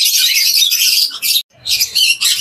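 Cockatiels in a bird shop, loud close shrill screeching calls in two long bursts separated by a brief pause.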